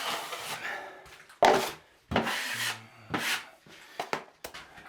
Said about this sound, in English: I just take my 10-inch knife for these holes and just put a thicker bead on